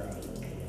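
Splashing, gushing liquid as water breaks in a video game, a continuous watery rush heard close and steady for a short moment, with no talk.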